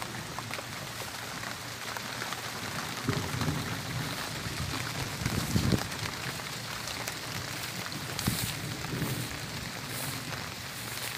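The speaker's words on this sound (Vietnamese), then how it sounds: "Bây giờ mưa quá, mưa vô thôi." Rain falling steadily on a banana and coconut garden in an afternoon shower, a dense patter of drops on leaves with a few louder splashes, heard alone.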